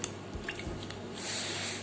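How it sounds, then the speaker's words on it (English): Freshly made chena (paneer) is squeezed by hand to press the water out, giving soft, wet squishes and a faint trickle of dripping liquid, quiet and close with no talk. "and squeeze all the water out from the chena."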